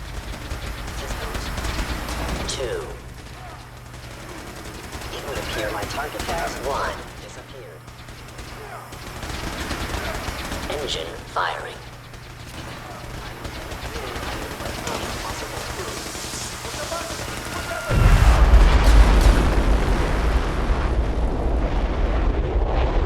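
Weapon test firing in Fallout 4, with booming explosions and bursts of gunfire spread over a long stretch, then a loud sustained blast near the end, set under a rumbling background.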